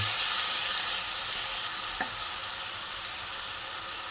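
Ginger-chili paste stirred into softened tomatoes in a frying pan, a steady bright sizzle with a single faint scrape partway through.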